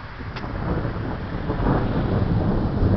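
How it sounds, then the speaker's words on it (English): Rumbling thunder from a big storm in East Haven, a broad low roll building steadily over three seconds with rain noise beneath and no voices. "Ah, that's a big lightning."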